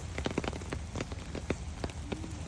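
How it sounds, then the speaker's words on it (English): Steady rain falls on a flower garden of blooming petunias, a dense patter with scattered sharper drops striking close by, continuous and fairly soft throughout with no voices. "Got a nice solid rain all day."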